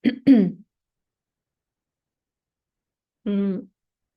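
Two rough throat-clearing coughs come close together, then a long silence before one more short, voiced clearing of the throat.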